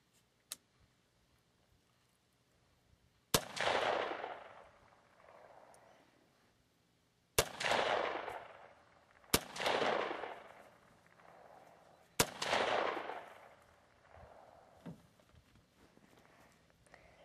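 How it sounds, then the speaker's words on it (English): Four sharp gunshots during outdoor target shooting, each a loud crack with a short decaying echo, spaced a few seconds apart, with a faint tick before the first. "Let's do a little bit of shooting now."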